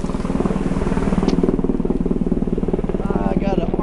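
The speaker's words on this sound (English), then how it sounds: "I got an army helicopter going overhead." An army helicopter flying overhead, a loud steady rotor thump pulsing throughout, with someone talking over it outdoors.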